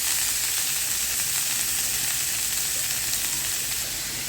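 A spinach mixture goes into hot coconut oil with mustard seeds and fries in a pan. The sizzle is a continuous, fairly loud hiss with no talking.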